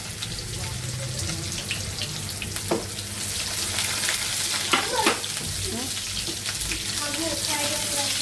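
Potatoes frying in a pan with onion and spices: a steady, hissing sizzle throughout, with a few clinks of stirring and a spoken voice coming through briefly.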